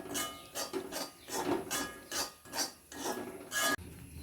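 Grated coconut roasting in coconut oil with coriander powder and turmeric in a pan for a mango curry. A spatula makes about eight steady, rhythmic, raspy scraping strokes, close and alone.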